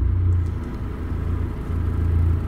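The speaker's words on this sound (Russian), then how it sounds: "Заводим машину." A VAZ car engine runs at a low, steady idle, its muffled rumble close and continuous with no talk.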